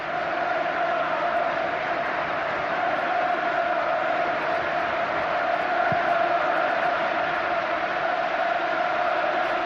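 A 40,000-strong football crowd roaring at Old Trafford during a Manchester United versus Barcelona Champions League match, a loud, sustained, unbroken roar with one brief thump partway through.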